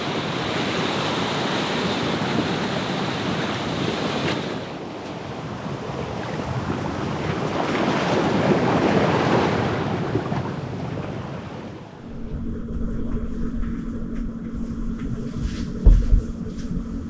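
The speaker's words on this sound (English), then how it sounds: "These waves are just ridiculous." Ocean waves and wind while sailing Long Island Sound, a steady loud wash of surf and rushing air against the boat, shifting partway through to a lower engine-like drone with gusts buffeting the microphone.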